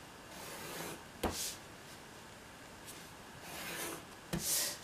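A pencil scrapes across paper in short, soft strokes while drawing straight parallel and perpendicular lines for a checkerboard grid, with a couple of sharp taps where the pencil or ruler is set down.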